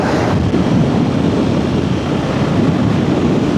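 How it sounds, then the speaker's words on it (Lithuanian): Heavy crosswind buffets the microphone in a loud, rumbling roar, surging and easing slightly, while riding fast on a motorcycle. "Bet toks vėjas šoninis."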